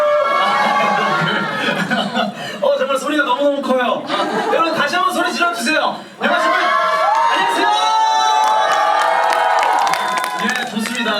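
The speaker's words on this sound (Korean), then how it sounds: "제 목소리가 들리지 않을 정도로 환호를 해주셔서 너무너무 감사합니다" Loud, continuous cheering and screaming from a cinema audience greeting actors on stage at a Lotte Cinema in Suwon, with someone speaking over the crowd throughout.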